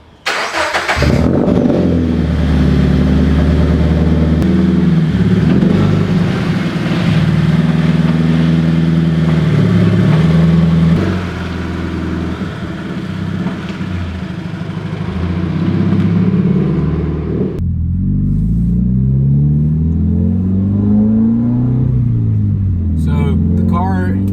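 A Subaru BRZ with a Tomei cat-back exhaust roars and revs loudly while driving, rising and falling in pitch as it accelerates and shifts.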